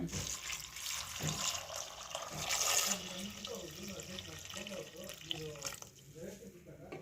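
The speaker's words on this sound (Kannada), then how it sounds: "ಇದನ್ನೆಲ್ಲ ಮುಣಗಷ್ಟು ನೀರು ಹಾಕೊಳ್ಳೋಣ" Water poured into a pressure cooker over fresh pigeon peas, brinjal, potato and tomatoes makes a steady splashing, gurgling flow, close by, with a voice speaking over it.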